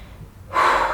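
A deep breath drawn during a rest break in an at-home glute strength workout, a sudden loud breathy rush that starts midway and holds steady to the end.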